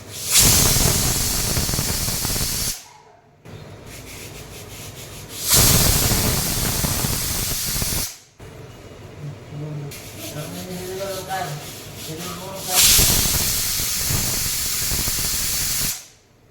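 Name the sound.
pressure cooker whistling and releasing steam while cooking rice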